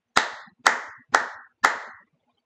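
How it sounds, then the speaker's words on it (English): Four sharp hand claps ring out alone in an even, steady beat, each crisp and close with a short decay. "when I clap my hands to the beat."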